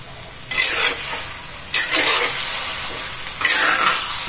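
Food frying in a pan with soy sauce and vinegar is stirred in three brisk bursts of scraping and sizzling, close and fairly loud, with a quieter sizzle continuing between the strokes.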